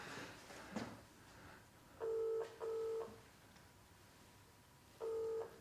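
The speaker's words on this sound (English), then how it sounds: "I have a phone number for Katrina, so I'm going to phone her now" A telephone call being placed to a prize winner: quick dialing tones at the start, then a repeating ringback tone in two evenly spaced double bursts with a pause and a third burst, steady and clear against a quiet line.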